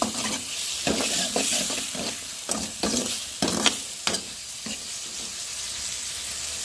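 Tomatoes and dry meat curry sizzling in a pan, with sharp intermittent stirring scrapes and clicks over a steady frying hiss, close and fairly loud, no speech.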